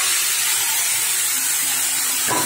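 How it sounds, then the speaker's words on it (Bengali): Chicken pieces hit hot mustard oil seasoned with dried red chillies and bay leaves, giving a loud, steady, close sizzling hiss that fills the clip without any talking. "নিয়ে ওই তেলের মধ্যে এই যে চিকেনটা দিয়ে দিলাম পরপর"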